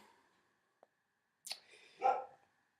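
Pet dog giving a sharp bark, then a second louder bark, quiet and alone after a faint click, with near silence around them.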